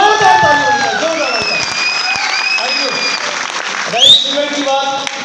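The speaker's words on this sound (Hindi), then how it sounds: "मैं चाहता हूँ जोरदार ताली होनी चाहिए, जोरदार।" A large audience at a company recognition event claps loudly and steadily for several seconds, with a brief swell of cheering midway.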